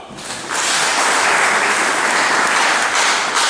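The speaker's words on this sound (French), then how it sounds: "Applaudissons pour les femmes" A church congregation breaks into loud applause for the women, clapping swelling up after a brief quieter start and then holding as a dense, steady roar of many hands.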